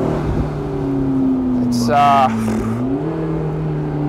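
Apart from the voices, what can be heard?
McLaren 650S turbos spooling up with blow-off sound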